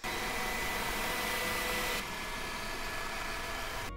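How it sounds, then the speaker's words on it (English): A Viomi V3 robot vacuum cleaner runs with a steady broadband whir and hiss, its motor tone dropping slightly to a lower setting halfway through, heard close and alone. "the turbo and normal strength modes are too loud for us to let the V3 run at night"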